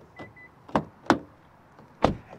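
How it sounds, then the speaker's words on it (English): A 2026 Kia K5 GT unlocks from the key fob button: a quick series of four sharp latch clicks and thunks from the door lock actuators, with a faint short chirp near the start, all quiet and close. "If I want to unlock it, I have to push the button once."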